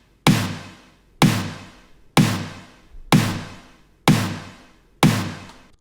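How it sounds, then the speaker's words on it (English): Big layered snare drum from a dark synthwave production, three stacked snare layers spread left, right and center, struck six times at an even, slow pace, each hit punchy and loud with a long reverberant tail. "I've got basically 3 different snare layers here"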